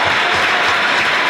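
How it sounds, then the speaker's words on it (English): Basketball fans in a college gym applaud a defensive stand, a loud, dense wash of clapping and crowd noise that fills the brief moment without letup. "the Rams fans applaud that defense"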